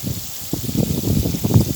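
Water poured onto a compost bin where a pumpkin plant is growing, a close, steady splashing gush that keeps running for the whole moment.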